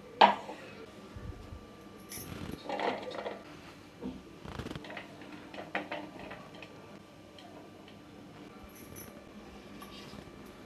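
A hand-operated chopper minces soya for kheema with quick rattling clicks and ratcheting ticks, in uneven bursts at close range.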